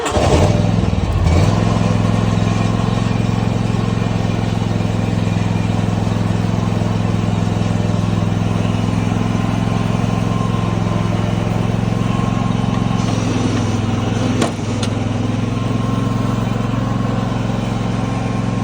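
A Kubota ZG227 zero-turn mower's engine fires at the start and settles into a loud, steady, close idle. There is a small dip near the end, and no talk over it.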